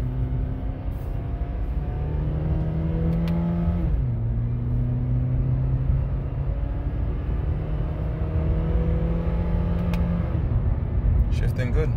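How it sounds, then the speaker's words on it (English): A 2010 Acura TSX engine revs in sport mode while shifted with paddle shifters, heard from inside the car as a steady droning hum whose pitch climbs, drops at each shift and climbs again. "Now we are going to test out the paddle shifters."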